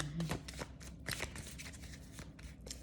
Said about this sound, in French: Je vais tirer des cartes devant vous